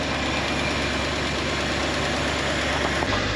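A Ford 352 V8 in an F250 pickup idles while warming up, a steady low rumbling drone with a faint rhythmic knock, close and continuous without any talk.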